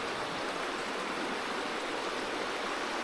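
Steady, dense rush of a river flowing beside a campsite near Eagle Rock in West Virginia, a continuous broadband roar that stays even throughout with no voices.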